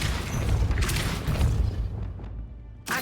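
A low, rumbling mechanical boom as a Depulso spell raises a gate in Hogwarts Legacy, sustained grinding through most of the moment, then a fresh thud at the end.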